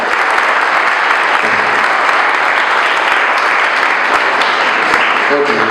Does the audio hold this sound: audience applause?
yes